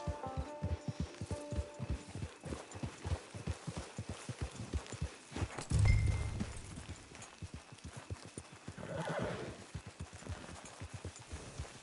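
A horse walks in Red Dead Online, its hooves clip-clopping in an even, regular rhythm close by, with a low thump and some swelling game ambience partway through, no talk.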